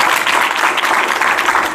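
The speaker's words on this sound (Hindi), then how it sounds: "उनके लिए एक बार ताली बजाओ बढ़िया वाली" Steady, loud applause from an audience clapping for students, a dense continuous patter of many hands with no talk over it.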